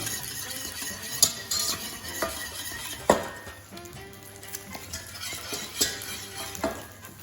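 Snow peas sautéing in a pan, a steady close sizzle with stirring scrapes and a few sharp utensil clinks against the pan throughout.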